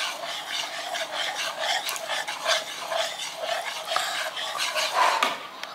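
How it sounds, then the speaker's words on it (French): Chocolate cake batter is stirred in a bowl with steady, close scraping and rubbing strokes. The strokes repeat rhythmically and continuously, with no one talking. "Moi, j'ai renversé le chocolat dans les gâteaux et maintenant, je vais mélanger."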